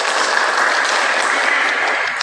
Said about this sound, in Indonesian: Tepuk tangan pada Bapak narasumber.